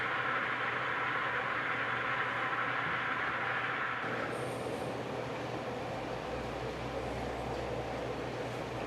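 A pump drones steadily while sanitizing a brewing unit tank, a constant broadband whir and low hum filling the space continuously without talk.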